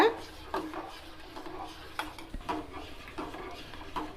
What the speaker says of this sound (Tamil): அப்படி நல்லா கலந்து விட்டுக்கணும்